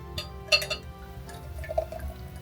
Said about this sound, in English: Some Prosecco for Alfie Park.